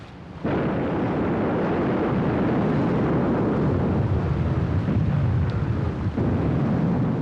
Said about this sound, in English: From a distance of 29 kilometers, the Scharnhorst opened fire.